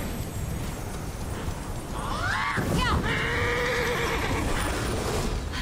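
A horse in Immortals Fenyx Rising lets out a loud, shrill neigh over hurried hoofbeats and windy game ambience, with the whinny rising and trailing off across several seconds.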